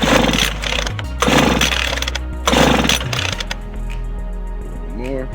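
A Homelite 26B chainsaw engine runs loudly while its carburetor is tuned, revving up in repeated bursts and dropping back to a lower idle between them.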